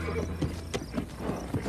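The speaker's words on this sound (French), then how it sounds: "puis on dirait des chevaux sauvages." Horses neigh and whinny several times, with shrill calls rising over a background of hoof clip-clops and movement close by, and no speech.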